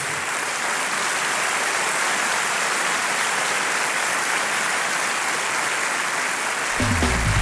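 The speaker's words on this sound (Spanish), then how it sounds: "Démosle un aplauso a Dios." A church congregation applauds in a steady, dense wash of clapping that sounds almost like heavy rain and carries on for several seconds without a break.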